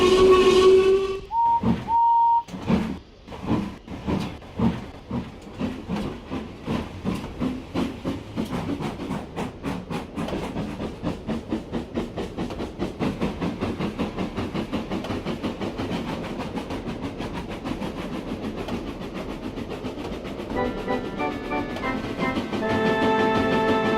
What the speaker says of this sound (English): So Henry puffed onto the terminus where he had a rest.